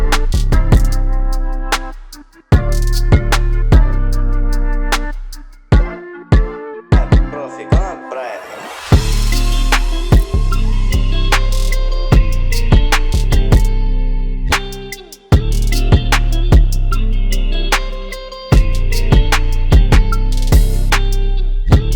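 Produced beat with a mellotron flute lead over rhythmically gated chords and a deep bass, punctuated by sharp drum hits; steady, loud and without voices, with brief drop-outs and pauses between sections.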